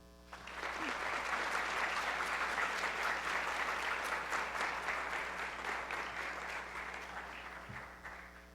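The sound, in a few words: applause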